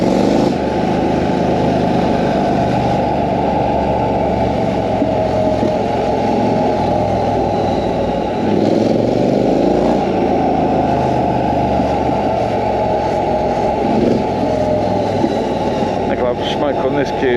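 A Triumph Scrambler 900 motorcycle engine drones loudly and steadily while riding, a continuous low rumble with slight shifts in pitch as the revs change and wind noise over the top.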